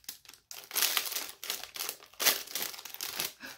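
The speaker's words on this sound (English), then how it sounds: "Let me open it. I'm sorry for the crinkling." Plastic packaging from a Target haul, holding wooden farmhouse-style beads, crinkles loudly and close up as it is opened, in repeated crackling bursts separated by brief pauses.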